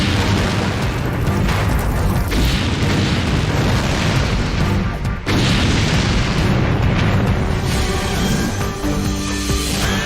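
Fire and explosions at a PVC plastics chemical plant holding tons of plastic and thousands of gallons of volatile chemicals, heard as a loud, continuous roaring rumble with heavy booms and bursts and a brief dip midway.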